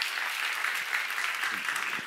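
A church congregation claps together in a brief burst of scattered applause, dense and roomy, at moderate volume, with a few faint voices underneath.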